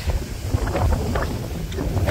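A wooden country boat moving across open water, with continuous low rumble and wind buffeting the microphone, water splashing faintly in the background.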